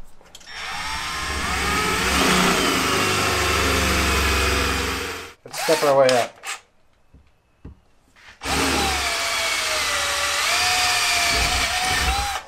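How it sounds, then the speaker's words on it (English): A drill bit bores a quarter-inch hole through a workpiece spinning on a lathe in a shop, a loud steady whine that cuts off into clatter and near-silence, then resumes just as loud. "spin it on the lathe and put a drill bit through it."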